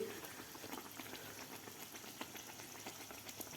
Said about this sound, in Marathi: दोन्ही साईडकडून आपल्याला व्यवस्थित ते गोल्डन कलर होईपर्यंत तळून घ्यायचे आहेत